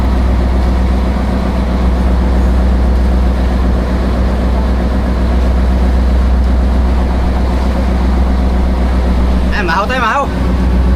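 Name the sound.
boat engine running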